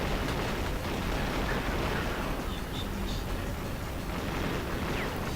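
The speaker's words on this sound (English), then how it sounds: "There's definitely quite a bit of gunfire." Continuous dense gunfire and explosions from an Unreal Tournament match, a steady wash of noisy blasts with no clear gaps, fairly loud throughout.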